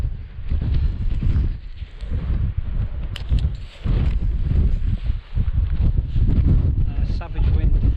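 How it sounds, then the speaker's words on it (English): Strong wind roaring over an exposed, wet hilltop on Scaw'd Law in Scotland's Southern Uplands, a loud steady buffeting rush across the microphone that stays constant throughout with only brief dips. "this wind up here is savage"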